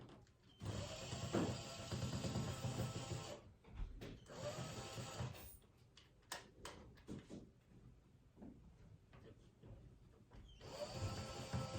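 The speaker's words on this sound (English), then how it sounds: "even though this drill is old," An old power drill drives a screw while curtains are put up, with short whirring bursts separated by pauses filled with faint clicks and handling noises, all quiet and close.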